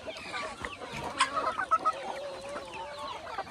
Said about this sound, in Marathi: हे आपलं मुक्त संचार गावरान कोंबडी पालन आहे, पूर्ण नॅचरल पद्धतीने मुक्त संचार गावरान कोंबडी पालन आहे।